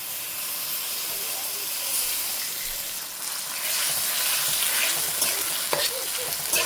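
Onion with ginger and garlic paste sizzles loudly in hot oil, growing into a stronger hissing fry midway as the mixture is stirred; close and continuous, with no clear talking.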